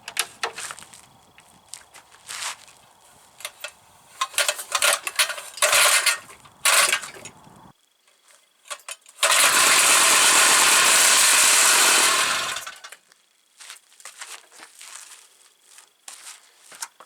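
Rare two-stroke lawn mower engine on a starting test: rattling and clattering handling, a brief pause, then a loud roaring burst of about three seconds before it cuts out, followed by quieter mechanical rattles.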